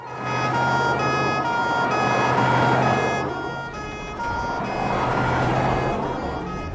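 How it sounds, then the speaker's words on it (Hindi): An ambulance siren wails loudly and continuously in a steady rising-and-falling cycle, close by and heard alone. "एम्बुलेंस आई है"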